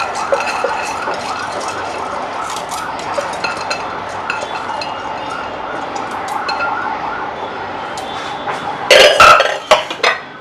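A mixer grinder grinding rice makes a steady, loud whirring grind throughout, ending in a few harsher bursts as the motor surges and stops.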